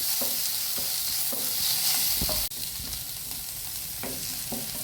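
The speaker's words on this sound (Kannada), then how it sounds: "ಹದ ಸೈಜಿನ ನೀರುಳ್ಳಿ ಹಾಕಿ ಅದನ್ನು ಹದ ಉರಿಯಲ್ಲಿ ಸ್ವಲ್ಪ ಹೊತ್ತು ಹುರಿದುಕೊಳ್ತಿದ್ದೇನೆ" Two medium onions fry in oil over medium heat for a Mangalore-style mutton rasa, a constant loud sizzle broken by a few sharp stirring scrapes and clinks, no voices.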